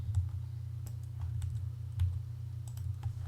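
Python code typed into a Google Colaboratory notebook cell on a computer keyboard, with quiet, irregular key clicks in scattered bursts over a low steady hum.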